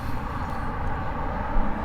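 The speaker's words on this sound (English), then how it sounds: "Goodbye, train." A short train passes near a desert beach town, a low continuous rumble and rolling drone with no voices, steady and fairly distant.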